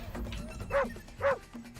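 Two sharp, clipped dog barks from the game Impossible Creatures, spaced about half a second apart and sitting loud and close over a low, droning in-game hum.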